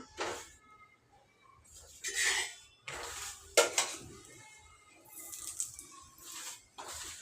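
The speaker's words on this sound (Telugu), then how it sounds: "ఇప్పుడైతే చపాతీ కాలుస్తున్నా ఆయిల్ వేస్తున్నా" Chapati roasting on a hot pan at home as oil is added, with intermittent sizzling bursts and a few clinks of utensils against the pan, fairly close and moderately loud.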